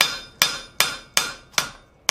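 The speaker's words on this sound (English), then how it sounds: "Hammering the wrong way." Metal leaves of a forged Christmas tree ornament struck by a hammer: six sharp, ringing blows at a steady rhythm, close and loud, each decaying briefly before the next.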